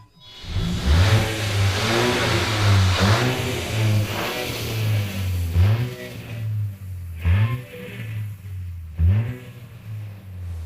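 Volkswagen MK8 GTI in sport mode revving hard, a loud close engine note rising and falling through repeated throttle blips with steady harmonic drone between pulls.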